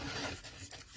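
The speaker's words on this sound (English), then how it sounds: "This one here needs a little sanding." Sanding a snow globe tumbler by hand, a steady dry rasping rub that runs close and continuous for about a second, with no voices.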